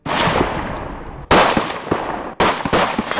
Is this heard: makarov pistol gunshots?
yes